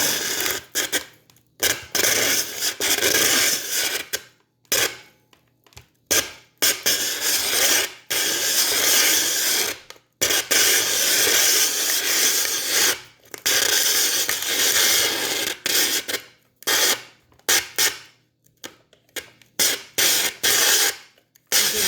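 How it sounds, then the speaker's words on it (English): Ice shaved by hand with a manual shaver for halo-halo, a rhythmic series of loud grinding, rasping cranks broken by short pauses, repeated many times close up with no speech. "Kai, do you want to help me shave the ice?"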